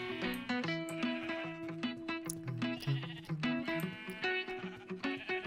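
Repeated bleating of sheep in the Minecraft video game, wavering calls recurring throughout over steady game music.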